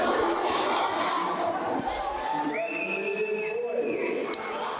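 The Riverside cheering section at a Knights of Columbus track meet makes a steady wash of crowd cheering and chatter, with whoops and a sustained yell rising above the noise. A voice talks over it.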